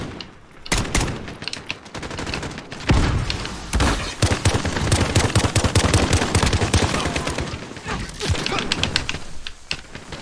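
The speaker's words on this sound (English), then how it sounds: "It's like you shouldn't be shooting through the building right there." Gunfire in Call of Duty Modern Warfare tears through a building as long loud bursts of rapid automatic shots. A few louder single cracks break in between, and the fire runs almost without pause after a brief quiet start.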